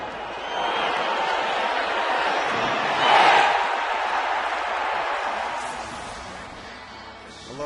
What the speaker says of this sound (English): I love the roar from the crowd right when they heard that gong sounding pole